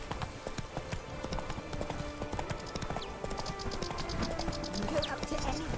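Horse hooves clip-clop at a steady galloping rhythm in The Witcher 3: Blood and Wine, close and continuous, with faint mechanical rattles and a brief whinny-like cry near the end.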